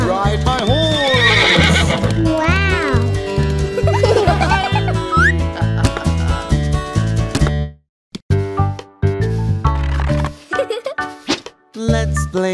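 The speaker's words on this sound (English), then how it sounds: "I am a horse, and I love to ride my horse." A horse whinnies in a children's nursery-rhyme song, loud high neighs sliding up and down over bouncy music and clip-clop beats, with a short gap before the music resumes.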